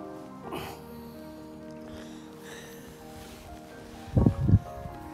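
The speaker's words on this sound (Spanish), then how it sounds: "una remada por el río Limay" Paddling on the Limay river in bikeraft boats, with a steady low wash of flowing water and a few louder splashes of paddle strokes near the end, quiet and close.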